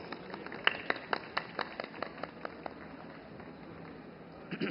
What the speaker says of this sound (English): Ladies and gentlemen, let's welcome him with a round of applause.